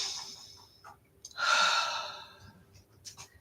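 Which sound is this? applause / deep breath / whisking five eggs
deep breath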